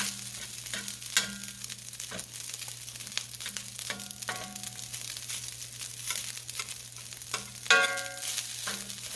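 Rice grains being stirred and tossed in hot oil on a stove set to medium heat, giving a steady close sizzle with intermittent scraping and stirring clatters throughout, no voices.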